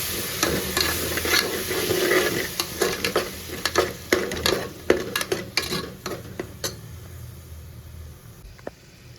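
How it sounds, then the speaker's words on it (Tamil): Ground tomato paste sautés in oil in a pan, a close sizzle broken by repeated sharp scrapes and taps of a spoon stirring the mixture, the frying fading toward the end. "சேர்த்து நல்லா வந்து வதக்கிக்கலாம் நல்லா வந்து எண்ணெய் பிரிஞ்சு வர அளவுக்கு நம்ம வதக்கணும்"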